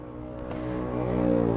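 A Yamaha MX King 150 motorcycle fitted with a custom racing exhaust revs up close, its buzzy engine note climbing steadily in pitch and loudness over a second and a half.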